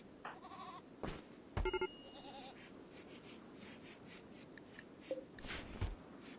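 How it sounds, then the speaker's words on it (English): Goats bleat in a video game where the herd is starving, several short wavering calls scattered over a quiet background, a couple louder and nearer than the rest. "maybe just slaughter the goats, just get it over with"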